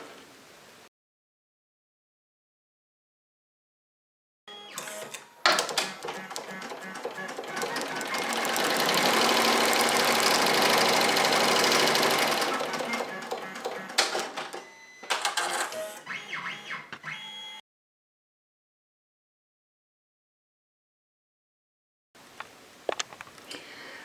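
Embroidery sewing machine stitching down a fabric applique, a fast mechanical rattling hum in several bursts separated by silent gaps, loudest and most continuous in the long middle run.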